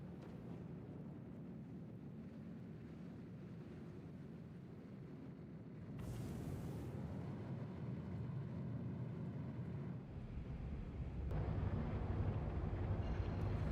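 Spaceship engines boosting to orbit in the Star Citizen game: a steady broadband roar that swells louder around the midpoint and again near the end, dense and rumbling with no voices over it.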